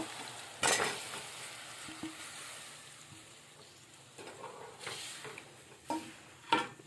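Soft frying hiss runs throughout as brinjal and peanuts cook, broken by a few sharper sizzles and stirring scrapes in a pan at close range.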